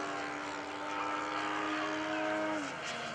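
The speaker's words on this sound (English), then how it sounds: "I think that's Gene Super Cub being flown out there by Earl this afternoon for us." A radio-controlled model Super Cub airplane doing a touch and go at an airshow drones with a buzzing engine note that shifts pitch slightly as it passes, steady and mid-distance throughout.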